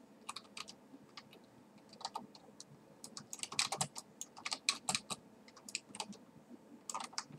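Computer keyboard and mouse clicks while someone plays Battlefield 3, fairly close and quiet. Sparse taps at first build into rapid bursts of clicking.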